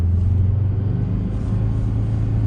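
A Volvo V70R with all-wheel drive climbs uphill through snow, its engine a steady loud low rumble under hard throttle, close and continuous with no talking.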